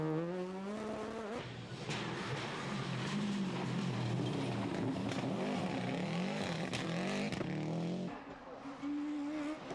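A Renault Maxi Mégane rally car's engine roars and revs close by during the 1998 Rallye du Limousin, pitch rising and falling through gear changes, with tires scrabbling, loud and continuous.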